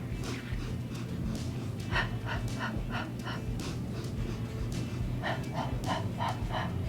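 Rhythmic breathing during the Pilates hundred exercise, short repeated panting breaths in steady pulses over a constant background hum.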